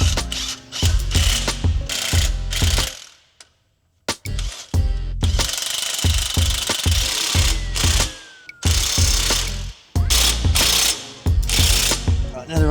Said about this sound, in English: now they're all tight, I'm going to run a ratchet over all of them